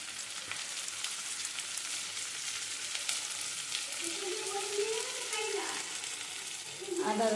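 Onions sizzle and fry steadily in a hot pan for a chicken curry, with chopped green chillies tossed in and stirred near the end; continuous crackling hiss, close and fairly loud, with no talking.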